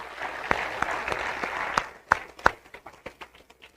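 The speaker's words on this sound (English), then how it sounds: "let's give a round of applause for Mayor Udall" Town hall audience in Joseph City, Arizona clapping for a visiting mayor; a modest room of scattered hands with distinct individual claps standing out, thinning into a few separate slaps toward the end.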